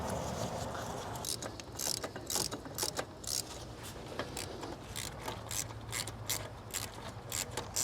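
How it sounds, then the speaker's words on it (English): A ratchet tightens a T30 Torx screw on a VW Tiguan inlet pipe, giving runs of quick, close metallic clicks in bursts, with no talk over them. "Now I'm gonna secure the T30 Torx into place."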